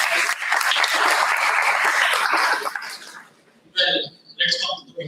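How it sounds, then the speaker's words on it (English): A conference audience at a leadership conclave breaks into a dense burst of clapping that fills the first three seconds, then fades as a few scattered claps trail off. "One round of applause."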